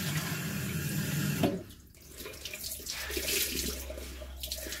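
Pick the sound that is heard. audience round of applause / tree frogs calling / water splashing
water splashing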